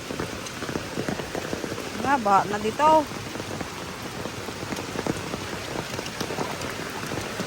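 Steady rain patters on a surface throughout, with a brief burst of voices talking partway through over the downpour.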